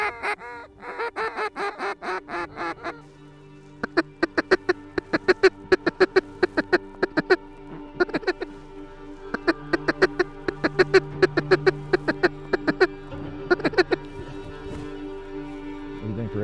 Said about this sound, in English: There were tons of ducks.